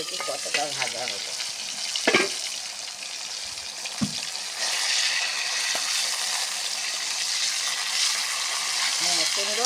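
Boal catfish, the helicopter catfish, frying in oil in a salted wok, with a loud steady sizzle throughout, brief metallic knocks and scrapes of stirring, and the crackle swelling louder toward the end.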